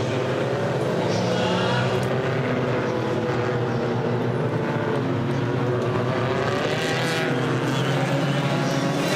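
Turbo diesel touring cars in a WTCC race at the Hungary circuit roar together on a restart, a loud dense wall of engine noise building and sustained throughout, with faint commentary underneath.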